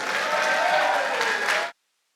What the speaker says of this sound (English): Can we give ourselves a big round of applause, please?